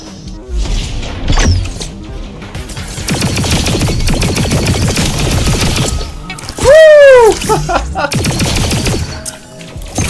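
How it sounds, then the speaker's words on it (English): Gunfire from a gun in the video game High on Life, a loud burst of shots and crashing impacts under an excited player's voice, with a bright swooping weapon sound in the middle. "Oh my god, this gun is brilliant."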